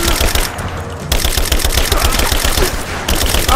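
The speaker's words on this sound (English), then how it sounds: "Hey, stop shooting!" Rapid automatic gunfire from the video game Rise of the Tomb Raider, a dense, loud, continuous burst of shots that carries through the whole stretch, with a brief swear from a player cutting in.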